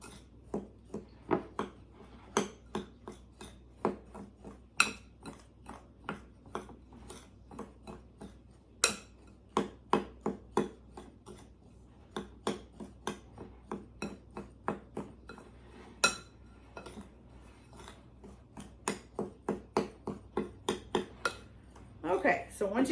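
A spoon stirs pumpkin spice bar batter in a bowl, giving a steady run of close, irregular clinks and scrapes against the bowl with no other sound over them.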